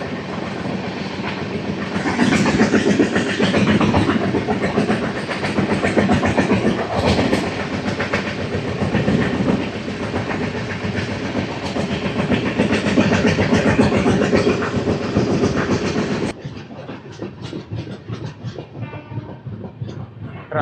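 Andhra Pradesh Superfast Express 20805 running after leaving Peddapalli Junction, with a loud, continuous rumble and rhythmic wheel clatter that carries steadily before dropping to a lighter, quieter roll near the end.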